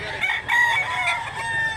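A 15-month-old white-legged Hulsey Grey x Mclean gamefowl rooster crows once, close and loud, in a single drawn-out call.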